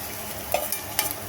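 Fried potato, pointed gourd and prawns go into sizzling masala in a small kadai, a close bright sizzle broken by a few sharp clatters and scrapes as the pieces land and get stirred, no voices.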